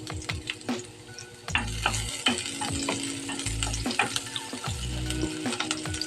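Onion fries in a pan for chicken sisig with a steady, close sizzle. Repeated scraping stir strokes run throughout, and heavier low thumps come in short bursts, all without talk.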